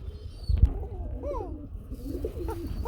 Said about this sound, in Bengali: যারা কুকা কবুতরগুলো কিনতে চান তাদের জন্য খুব সুন্দর এক জোড়া বাসিরাজ কুকা আছে